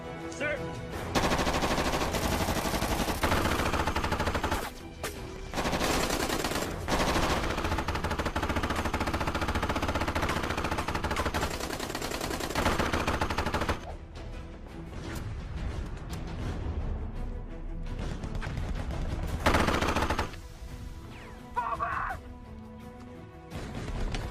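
Dense gunfire in a film firefight, with rapid bursts of automatic weapons layered over a loud, continuous action soundtrack and a few short pauses; faint shouted voices mixed in.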